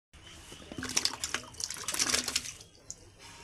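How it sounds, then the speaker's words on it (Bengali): Cut pieces of peeled raw mango being washed in clean water for pickle: close splashing and sloshing with trickling, irregular bursts, busiest in the middle, then tapering off to quieter drips. "এই যে আমগুলো কেটে পিস পিস করে নিয়েছি, এখন ভালোভাবে পরিষ্কার জলে ধুয়ে নেব"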